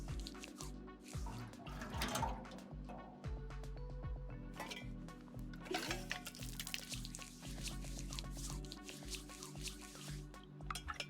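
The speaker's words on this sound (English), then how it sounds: "they've added animations for cleaning your hands with the cooking pot and gasoline canister" Hands being cleaned with water from a cooking pot in DayZ, a run of close wet drips, splashes and squishy liquid sounds with light clinks, fairly quiet and continuous.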